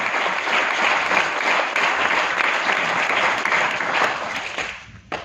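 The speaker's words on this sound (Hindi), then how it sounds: "तालियां ठोको इस बात पे।" Dense, steady audience applause at a live mentorship seminar, loud and continuous for several seconds before fading out with a last stray clap.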